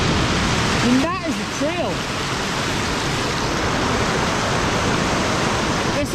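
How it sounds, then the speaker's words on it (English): A swollen stream rushes across a Pacific Crest Trail hiking path, a loud, constant wash of water up close, with someone speaking briefly near the start. "So this is supposed to be just a little stream. Not right now, it's not."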